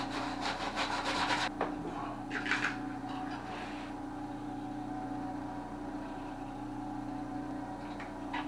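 Hand sanding of ABS plastic pipe, a steady rubbing scrape with louder strokes in the first few seconds, then a softer continuous rasp over a constant background hum.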